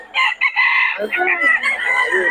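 A rooster crows once at a market, loud and close, its drawn-out call rising and then trailing off over a little over two seconds.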